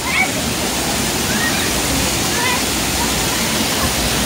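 Rushing water roars steadily at a waterpark, a loud continuous wash of broadband noise with no breaks from start to finish.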